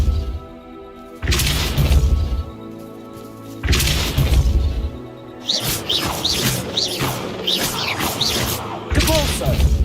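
Spell blasts in the Hogwarts Legacy video game burst out as heavy booming thumps and crashes, several loud impacts in sequence with shattering debris and brief in-game voice sounds between them.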